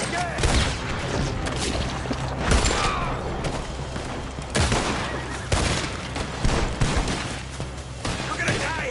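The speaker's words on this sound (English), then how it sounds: "Shoot him again!" Repeated gunfire volleys in Red Dead Redemption 2, sharp shots bursting irregularly over a steady rumble of battle noise, with voices shouting beneath the shooting throughout.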